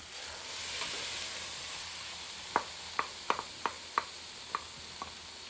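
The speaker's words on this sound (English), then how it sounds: "now you have to keep frying this spinach puree for at least 10 to 12 minutes" A quiet, steady sizzle of spinach puree frying in a pan, with several sharp clicks and taps of a utensil against the pan toward the end.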